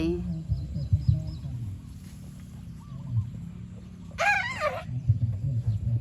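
Chickens clucking in a yard, short close clucks scattered throughout, with a brief loud rooster-like call partway through, amid outdoor background noise.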